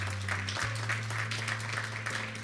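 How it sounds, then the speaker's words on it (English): Audience applause for a speaker at a talk series event, steady moderate clapping over a low steady hum for a couple of seconds. "Let's give her a round of applause."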